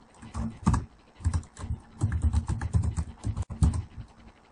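Login details being entered on a computer keyboard: quick bursts of close, crisp keystrokes in an irregular rhythm, with brief pauses between runs of typing.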